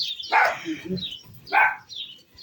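A small dog barks at someone passing on the street, giving two separate yapping barks about a second apart, fairly close, with quiet background between.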